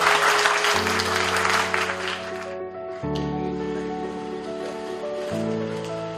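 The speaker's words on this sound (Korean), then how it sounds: "김효재 이사장님의 축사 여러분의 큰 박수로 청하겠습니다" An audience applauds at a magazine day anniversary ceremony as a congratulatory speaker is welcomed, steady dense clapping that fills the room before it thins out while music tones sound underneath.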